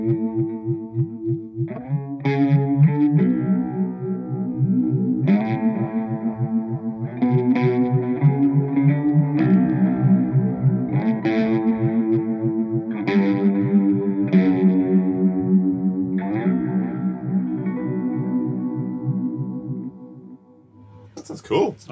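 Line 6 FM-4 Filter Modeler running its comet trails effect: a loud, sustained processed tone with swept, echoing repeats that rise in bursts every couple of seconds, then fade toward a short high burst at the end.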